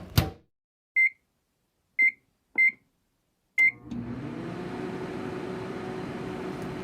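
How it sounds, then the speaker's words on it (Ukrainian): A microwave oven: a door clunk, four short electronic beeps, then the steady whirring hum of the oven running. "Мікрохвильова піч."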